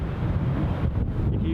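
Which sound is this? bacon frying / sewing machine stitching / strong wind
strong wind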